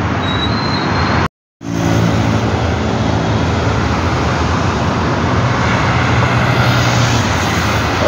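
A Viação Cometa Marcopolo G7 Scania coach passes at the Santos bus station. Its loud, steady engine and road roar fill the whole stretch, broken by a brief moment of silence near the start.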